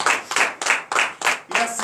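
A church congregation at a morning prayer service in Benin claps in a strong, regular rhythm, about six loud unison beats in under two seconds, with a brief tonal voice near the end.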